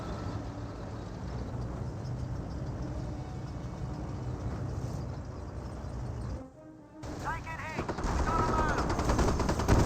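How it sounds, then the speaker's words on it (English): Staghound armored cars open fire in the video game Company of Heroes, dense rapid machine-gun bursts and battle noise running steadily, briefly dipping near the end before resuming even louder. "Staghounds sending some fire there onto the Grenadier."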